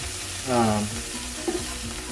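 A splash of white wine vinegar hits a hot pan and sizzles, a steady hiss that holds throughout, with a brief tonal squeal early on and a small knock near the middle.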